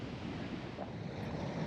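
Rough night on Lake Superior, waves surging and breaking under steady wind, a continuous low roar with wind noise hitting the microphone and nobody speaking.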